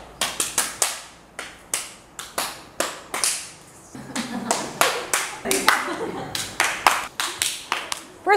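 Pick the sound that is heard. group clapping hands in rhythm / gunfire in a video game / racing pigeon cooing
group clapping hands in rhythm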